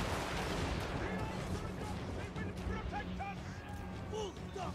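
Cannon and artillery fire booms from a Total War: Warhammer 3 battle, with repeated blasts and crashes over a dense rumbling battlefield while someone talks over the action.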